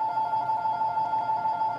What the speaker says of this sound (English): I forgot to turn off the phone.